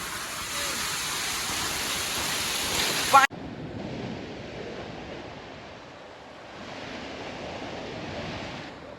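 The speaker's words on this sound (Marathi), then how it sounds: "हा भास्ता डॅम पूर्ण ओव्हरफ्लो झाला आहे आणि हा पाणी बघा खूप पाणी आहे" Water rushing over the overflowing Bhasta dam, a broad, steady roar of churning flow heard from nearby; a loud stretch cuts abruptly to a softer, more distant rush that swells slightly again toward the end.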